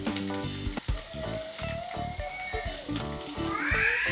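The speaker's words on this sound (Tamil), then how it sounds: "இது அப்படியே ஃப்ரை ஆகிட்டுருக்கு" Steady sizzling of onions and curry leaves frying in hot oil, with a faint cat-like meow drifting through at one point.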